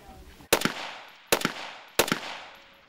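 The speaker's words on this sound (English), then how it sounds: "the recruits are practising on the ranges with live rounds" Army recruits fire live rifle rounds on a range, giving three sharp, loud gunshots about a second apart, each followed by a short echoing decay.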